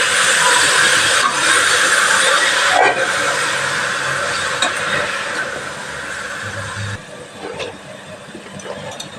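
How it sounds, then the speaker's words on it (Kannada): Fenugreek leaves frying in a pan for menthe palav, a steady loud hiss and sizzle that fades slightly toward the end, with faint clinks and no speech. "ಚೆನ್ನಾಗಿ ಫ್ರೈ ಮಾಡಬೇಕು ಮೆಂತ್ಯ ಸೊಪ್ಪು ಹಾಕಿ."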